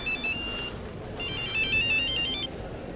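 A telephone ringtone sounds loud and close as a melodic electronic ring, two bursts separated by a short pause, with no talking.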